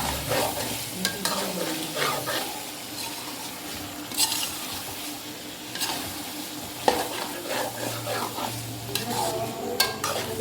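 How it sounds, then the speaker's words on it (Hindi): Tomatoes and green chilies frying with mutton and onions in a pan, a steady close sizzle with repeated scraping stirs and occasional utensil clinks throughout, no talking. "इसको हम थोड़ा सा फ्राई कर लेंगे ताकि हमारे टमाटर हैं और जो सब्ज़ मिर्चें हैं वो भी थोड़ी सी सॉफ्ट हो जाए"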